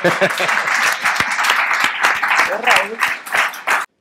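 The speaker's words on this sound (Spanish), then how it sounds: "le pido el aplauso ahora al público para que se lo dediquen a él" An audience at a presentation of open therapeutic groups claps in a burst of applause, with voices mixed in over the clapping. It stops abruptly at the end.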